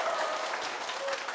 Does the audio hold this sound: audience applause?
yes